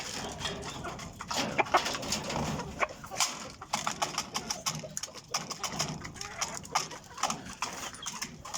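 Backyard chickens cluck and call close by as they are fed their morning mix, with scratching and fluttering mixed through the steady, busy flock noise.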